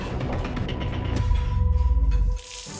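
Cold water runs from a tap and splashes in a steady, close wash, swelling into a heavier gush before cutting off sharply near the end, with no talk.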